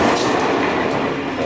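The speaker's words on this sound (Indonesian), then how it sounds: "Ini kereta CC201. Nanti penarik gerbong BBM pertama." CC201 diesel locomotive on an Indonesian railway, passing close by at a level crossing, a loud, dense, steady rumble with rolling wheel noise filling the whole moment.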